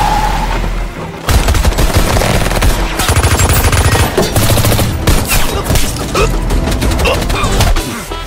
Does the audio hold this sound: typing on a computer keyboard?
no